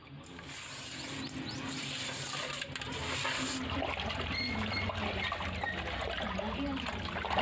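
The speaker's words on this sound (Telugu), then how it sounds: "అందుకని ఇవన్నీ వేసి అయితే బాగా కడుగుతున్నానండి." Fish pieces being washed by hand in water with turmeric and salt, a steady close splashing and trickling with a broadband hiss that swells after a few seconds and continues without pause.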